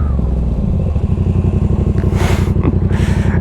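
A motorcycle on a riding-test practice course (A2 licence) runs with a loud, steady close engine throb; from about two seconds, two bursts of harsher rushing noise come through as it picks up toward 50 km/h and brakes.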